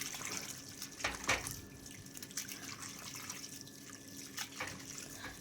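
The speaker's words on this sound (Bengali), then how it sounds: "এগুলো ভালো করে ধুয়ে নিতে হয় আলু" Potatoes being washed by hand in water in a home kitchen, with soft splashes, drips and sloshing running intermittently and fairly close, a few brighter splashes standing out, and no talking.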